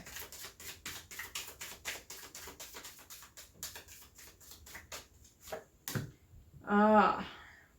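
A tarot deck is shuffled by hand in a quick series of crisp card taps and riffles, close and fairly faint, ending with a short spoken word.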